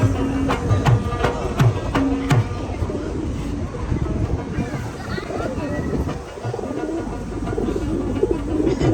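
Pigeons coo softly in a park amid a constant low rumble and scattered knocks, with faint voices mixed into the background.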